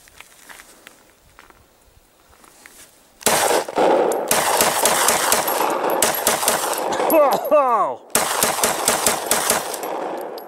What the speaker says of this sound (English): This is the hot sauce Glock.